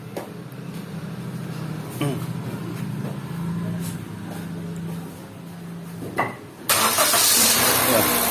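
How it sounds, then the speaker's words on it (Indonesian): Car engine cranked and started during coolant bleeding, with a voice talking over a rough cranking sound that catches and settles into a loud, steady running roar near the end. "Sekarang kita starter."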